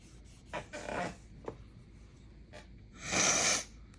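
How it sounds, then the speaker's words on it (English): A few wet sniffs and nasal snorts from a person with a cold, quiet gaps between, ending in a longer, louder sniffle, close by and with no talking. "I'm getting over a cold, so I'm gonna have my sniffles out here"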